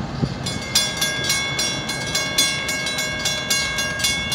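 An FEC freight train, a short manifest, passes close by while picking up speed, its wheels beating out a steady clickety-clack rhythm over a constant rumbling roar and high squealing tones, loud and without talking.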